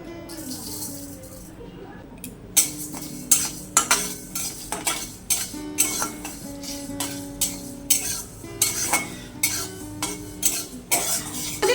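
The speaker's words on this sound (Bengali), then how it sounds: "মশলাটা ত্রিশ সেকেন্ড মতো ভেজে নিয়েছি এখন দিয়ে দেব হাফ চামচ কালো সর্ষে" Black mustard seeds and spices frying in a pan on low heat, a rapid series of sharp rattling pops and clatters from the seeds and stirring, fairly close and busy throughout after a quieter start.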